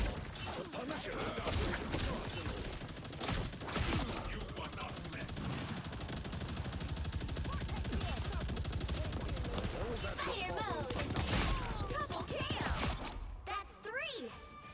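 Rapid gunfire in a competitive shooter game crackles in dense bursts and volleys, with sharp individual shots standing out over a busy mix of game effects.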